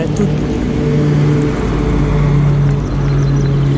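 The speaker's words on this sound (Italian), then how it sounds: "di fianco c'è la statale, per cui il rumore continuo del traffico" Steady, loud rumble of road traffic from a nearby state highway beside a canal in Milan, a continuous droning wash with engine hum and no pauses.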